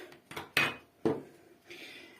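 Spoon clinks and scrapes against a bowl of cake batter with cocoa in a few irregular bursts, with soft rubbing in between, close and fairly loud.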